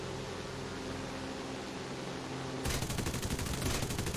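Aircraft gun burst in the War Thunder game, flown in a P-39K, a steady engine drone that cuts into a rapid, loud rattling stream of machine-gun fire for the last second and a half.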